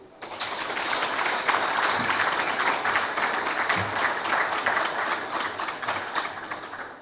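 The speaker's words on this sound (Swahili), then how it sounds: "Makofi machache." Audience applause at a club announcement of a new kit deal: a brief burst of clapping from a crowd that swells quickly and holds steadily for several seconds before tailing off.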